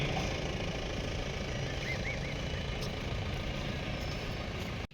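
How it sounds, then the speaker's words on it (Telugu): An inspection vehicle rolls slowly past the stalls at a police parade ground during a Republic Day celebration in Kurnool, its engine a low, steady rumble that continues throughout before cutting off abruptly at the end. "ప్రస్తుతం పరిశీలన వాహనం అంతా కూడా స్టాల్స్ ముందుగా సాగుతూ ఉన్నది."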